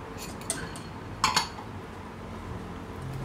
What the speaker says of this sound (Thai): ก็คนให้เข้ากันค่ะ